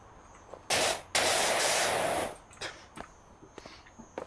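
A pressure washer sprays in the video game Powerwash Simulator: a loud, steady hiss that starts in two bursts, holds for over a second, then cuts off, leaving faint clicks and light noise.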